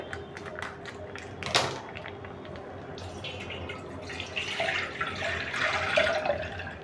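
A plastic milk packet is torn open with a sharp rip, then milk is poured into a pot with a splashing, trickling flow that grows louder toward the end.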